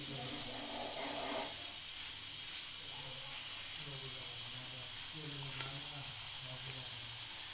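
Chicken finger snacks fry over a low flame in a kadhai, giving a steady, quiet bubbling sizzle throughout while a person speaks faintly over it.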